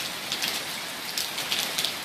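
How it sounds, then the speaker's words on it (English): Steady rain from Tropical Storm Harvey falls in Mauriceville, Texas, on an early morning, a dense, even hiss of drops striking surfaces, with small patters rising and fading and no voices. "Really started raining good again."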